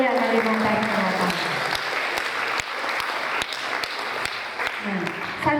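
An audience applauds steadily for the Sanggar Budaya Kalimantan Selatan theatre troupe after a stage performance of Demang Lehman. The clapping is dense and continuous, with voices audible at the start and end.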